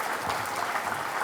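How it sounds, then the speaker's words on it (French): A crowd at a public meeting applauds steadily, a dense wash of clapping throughout. "Merci de l'applaudir."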